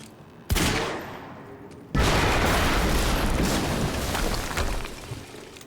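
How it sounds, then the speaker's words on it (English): A loud explosion in the video game Quantum Break, an abrupt blast, then a second heavier boom that rumbles on as a sustained roar with crackling debris. "we just heard an explosion near the harvesting perimeter"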